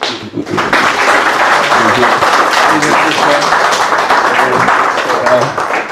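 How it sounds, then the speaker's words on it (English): An audience applauding a speaker, a priest, at a talk on the Spiritual Exercises, with sustained clapping throughout and voices murmuring underneath. "I just have to give him a clap again"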